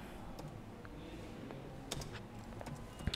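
Light keyboard typing while entering names into an Excel spreadsheet, a steady run of soft clicks and taps at close range, with a few sharper keystrokes toward the end.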